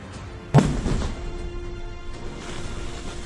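A controlled detonation of explosive remnants of war sounds as one sharp, heavy blast that fades into a rumbling tail. It is heard at a distance with no voices.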